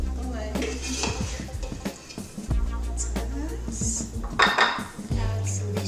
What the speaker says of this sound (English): We're going to put this on a plate.